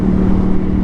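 A 2020 Ducati Panigale V4S motorcycle cruising at 4,000 RPM, a loud, steady, close engine drone with a constant low hum and no change in pitch, in one brief stretch.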